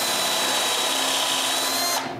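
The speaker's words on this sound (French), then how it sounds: "Et je perce des trous pour les vis qui vont retenir les jambes au corps." A power drill bores screw holes into a wooden nutcracker body, a steady whining drone running loud and close for about two seconds before cutting off.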